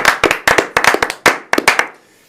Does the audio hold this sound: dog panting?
no